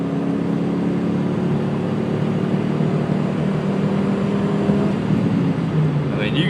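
A Dodge Ram pickup with a 4.7 engine and a Superchips programmer accelerates at full throttle, giving a loud, steady engine roar that holds throughout at close range.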